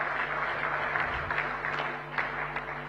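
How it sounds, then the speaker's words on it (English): Applause from the audience at a national chamber of commerce convention, a steady wash of clapping from a crowd in a hall. "give him a big, big round of applause to express our gratitude"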